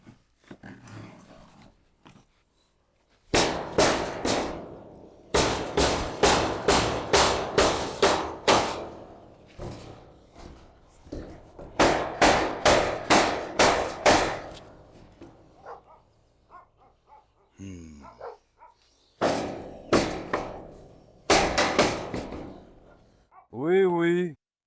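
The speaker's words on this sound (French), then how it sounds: "Notre gros marteau." A big hammer strikes hard and close in rapid bursts of repeated blows while a cat house is being built, with pauses between the bursts and people talking in the gaps.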